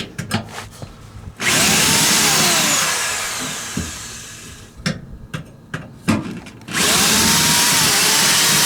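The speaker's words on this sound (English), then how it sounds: "go ahead and drill everything in and then attach it" A power drill whines loudly in two sustained bursts, drilling holes to install RV scissor jacks, separated by short clunks and taps as the tool is repositioned.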